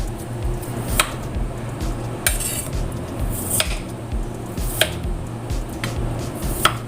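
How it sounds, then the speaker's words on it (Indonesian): Knife slicing potatoes for a clear chicken soup, with sharp intermittent cuts and clicks against a pot or board at an irregular rhythm over a low background hum, close by and without talking. "Jadi ini kentangnya iris saja seperti ini ya."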